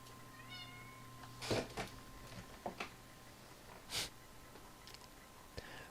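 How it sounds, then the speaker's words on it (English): A pet cat meows indoors while trying to get into a wardrobe, giving a few short, moderately close calls with quiet pauses between them. "That's just our cat meowing, trying to get into our wardrobe."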